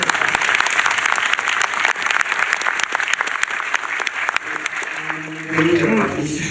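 A cinema audience at an avant-première screening of a director's film in Lille applauds, the dense clapping sustained and loud throughout and thinning slightly near the end as a voice begins.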